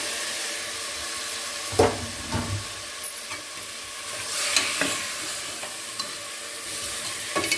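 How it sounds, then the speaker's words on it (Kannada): Potatoes tumble into a hot pan for potato palya and fry with a steady sizzle, while a spoon scrapes and clatters through them in a few distinct stirring strokes near the start. "ನೋಡಿ ಇವಾಗ ನಾನು ಆಲೂಗಡ್ಡೆನ ಹಾಕೊಳ್ತಾ ಇದ್ದೀನಿ ಇದಕ್ಕೆ"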